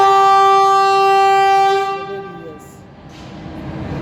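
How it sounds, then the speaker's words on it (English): An Ethiopia–Djibouti EDR passenger train sounds a long, loud, steady horn blast as it departs Dire Dawa station, followed by the low rumble of the train and station background. "We are ready to depart from Dire Dawa station."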